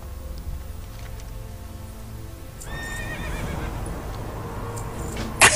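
In World of Warcraft, a horse gives a clear whinny partway through, and clip-clop hoofbeats and soft game ambience run under it.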